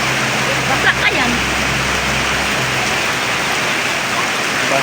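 Heavy rain pours down steadily as a dense, constant wash of noise close by, with brief faint human sounds and a low hum underneath.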